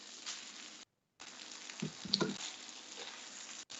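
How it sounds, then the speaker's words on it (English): Boiled crawfish tails go into a pan of jambalaya fried rice, setting off a steady frying sizzle with stirring and scraping bursts partway through, broken by a short gap of silence. "let's go ahead and add our 1 pack of crawfish tails"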